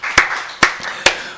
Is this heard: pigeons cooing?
no